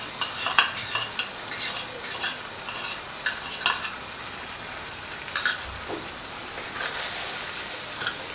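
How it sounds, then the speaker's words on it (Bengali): Spice paste being sautéed in a pan with cumin and ginger for a vegetarian doi potol curry, with a steady sizzle under repeated scraping and stirring of a utensil against the pan, close and alone without talk. "মশলাটা দিয়ে এখন আবারও আমি মিনিট খানেকের মতো কষিয়ে নেব, যতক্ষণ না মশলা থেকে তেল ছেড়ে যায়"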